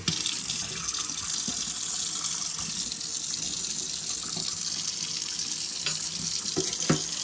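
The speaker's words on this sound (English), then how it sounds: "So I'm gonna run some water in there." Steady stream of water running from a kitchen faucet into a sink with a drain strainer, a continuous close splashing hiss with a few faint clinks near the end.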